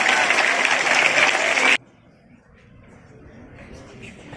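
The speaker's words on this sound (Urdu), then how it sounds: "آپ کی بھرپور تالیاں." An audience at a religious quiz competition claps loudly and densely for close to two seconds, then the applause cuts off abruptly into quiet room tone.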